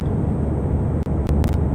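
A 1.3-liter two-rotor rotary engine roars through a car exhaust in Euro Truck Simulator 2, a loud, continuous droning buzz with a few brief dips and faint clicks.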